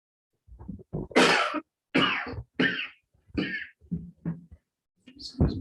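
A person coughs repeatedly in a quiet school board meeting room, a string of sharp, close coughs and throat clearing separated by brief pauses.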